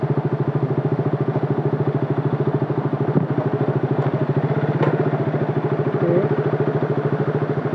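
A motorcycle engine idles on a rain-wet road near Gangtok with a loud, steady, rapid putter. A few faint clicks and clatters sound around it, and no one talks.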